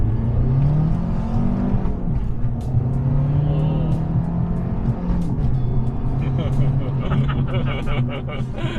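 Small Abarth 500 hatchback tuned to 180 horsepower accelerating hard, its engine droning and climbing in pitch as it revs, loud and close with a steady rumbling undertone throughout.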